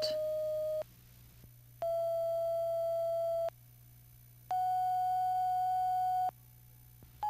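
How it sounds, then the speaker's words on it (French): Pure electronic audiometry test tones of different frequencies sound one after another, each held about a second or two with short gaps, stepping through different pitches over a low hum. "On injecte dans l'oreille de l'enfant des sons de fréquences différentes."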